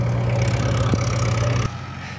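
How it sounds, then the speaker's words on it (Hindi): An old-model Mahindra Arjun 555 tractor engine runs under full load with a steady, loud drone and a low-pitched tone. The sound drops off abruptly near the end. "ये आ रहा है अपना ओल्ड मॉडल ट्रैक्टर अर्जुन"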